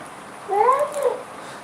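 A single cat gives one clear meow that rises and falls, close and moderately loud over a quiet background.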